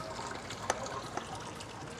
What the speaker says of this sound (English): then we can put our Sparge water in there.